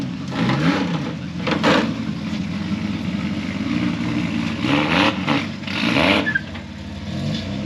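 A Japanese classic car pulling in at an outdoor car show, its engine rumbling steadily close by with several short revs swelling over the idle.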